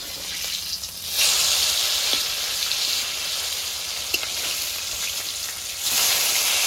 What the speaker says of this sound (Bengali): মাছগুলো এক পিট ভাজা হয়ে গেছে এবার মাছগুলো উল্টিয়ে নেবো